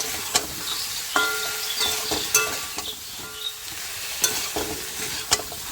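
Spice paste with cumin powder and a splash of water sizzles in a pan for a vegetarian dish, with a spoon scraping the pan in sharp, irregular strokes over the steady frying hiss.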